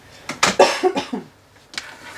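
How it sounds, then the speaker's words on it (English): A person coughs in a quick cluster of three or four harsh, close coughs, followed by a pause and one more short cough. "I'm going to cough."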